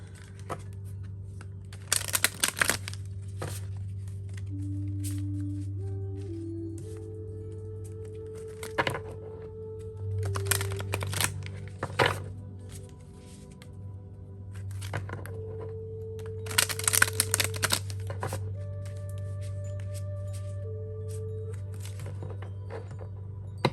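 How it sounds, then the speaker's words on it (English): Tarot cards shuffled by hand in short riffling bursts, repeated several times against a steady low background hum and soft tones. "I'm going to finish shuffling"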